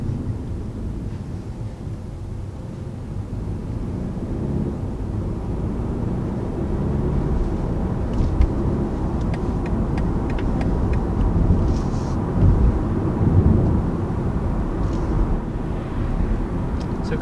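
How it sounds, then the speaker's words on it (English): A 2019 BMW 3-Series cruising down the road, heard from inside as a steady low engine and road rumble with tyre noise, continuous and fairly loud throughout, with no talk. "So cruising down the road here"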